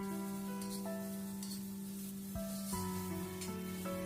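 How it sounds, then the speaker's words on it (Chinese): Onion strips and mung bean sprouts dry stir-fried in a hot wok with no oil, a steady sizzle with scraping toss sounds, close and alone over a constant tonal hum. "锅里不用放油，下入洋葱丝和绿豆芽干炒一下"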